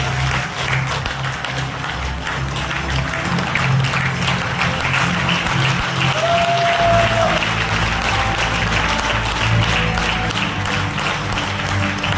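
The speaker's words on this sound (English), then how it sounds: "If you please keep clapping for Keval and for doing something extraordinary" Steady applause from an audience at a movie trailer launch fills the space, continuous clapping with a dense, sustained texture and some background murmur.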